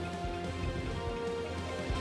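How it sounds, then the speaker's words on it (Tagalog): Steady rain falling during Typhoon Quiapo in Batanes, a dense continuous wash of drops with a low rumbling undertone, constant and fairly loud throughout. "Ramdam na rin ang pag-ulan dulot ng bagyong Quiapo sa ilang lugar sa Batanes"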